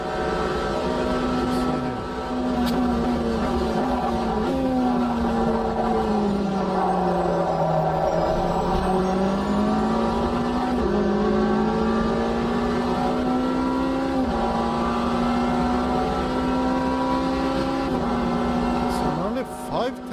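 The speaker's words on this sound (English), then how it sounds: "Still, this car is very fast." A Le Mans race car engine in a racing video game holds a steady high-pitched drone, dipping and rising through gear changes and throttle shifts, loud and continuous throughout.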